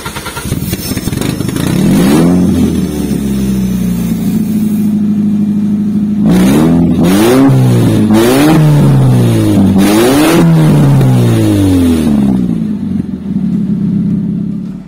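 A Lamborghini Aventador replica running the original Toyota Vios 1500cc engine idles loudly nearby, then is revved in several sharp blips that rise and fall, before settling back to a steady idle.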